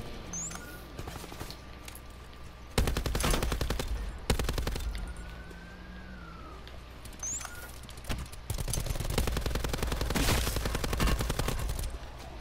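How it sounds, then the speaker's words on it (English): Rapid gunfire bursts from a video game, loud volleys of automatic shots in repeated clusters over a steady background hum, with a pause between barrages. "Yeah, somebody's shooting at us."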